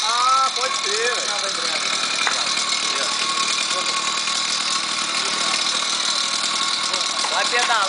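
A motorized bicycle's small engine runs steadily throughout at a close, even drone, with intermittent squeaky, chirping tones riding over it near the start and end.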